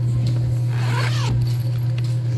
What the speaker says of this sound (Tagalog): Oh, ang ganda ng loob. May zipper pa.